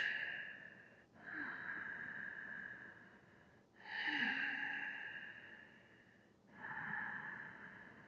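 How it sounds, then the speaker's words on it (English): Slow, deliberate breaths drawn in and out through the nose during a yoga relaxation pose, three long airy cycles close to the ear, soft and hissing with quiet pauses between them. "Inhales through your nose, exhales out the nose."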